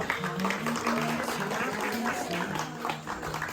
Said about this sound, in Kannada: ಜೋರ ಚಪ್ಪಾಳೆ ಬರ್ರಿ ಸ್ವಲ್ಪ